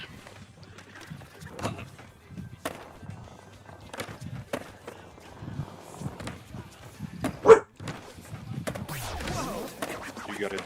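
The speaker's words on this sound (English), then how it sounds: "You got a dog?" A dog barks a few times amid quiet household sounds, the short sharp yelps standing out against footsteps and light background noise.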